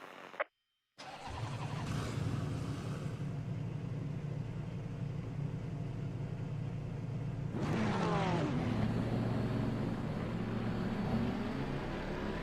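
Racing car engines in a video game drone loudly and steadily, then the pitch shifts as they rev harder partway through.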